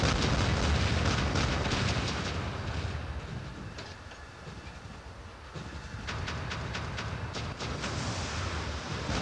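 Continuous, loud robot weapon fire and explosions rumble through a War Robots battle, with rapid clattering bursts easing briefly before intensifying again.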